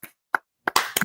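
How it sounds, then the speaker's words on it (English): Several sharp hand claps in a few separate bursts, close and loud, with short silences between them. "give him a hand clap"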